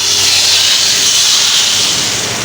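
Loud, continuous sizzling hiss of garlic frying in hot oil for a dal tempering, steady and close, with no voices.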